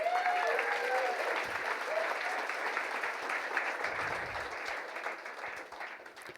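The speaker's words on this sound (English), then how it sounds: "So huge just round of applause for all of those people." Audience at an expo talk gives a round of applause, a fairly faint, even patter of many hands that slowly fades, with a brief voice near the start.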